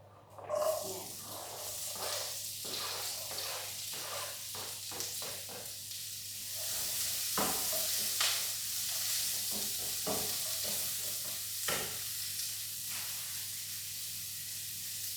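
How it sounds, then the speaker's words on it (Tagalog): Onion sizzling in hot olive oil for lasagna, a soft steady frying hiss punctuated by scraping stirs and small pops, fairly quiet and close. "So, i-fry muna natin ang ating onion."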